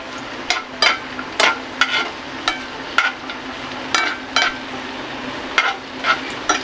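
Watermelon halwa roasting and being stirred in a pan, with a steady low sizzle broken by a run of sharp scraping taps from a spoon against the pan, close and fairly loud, with no one talking.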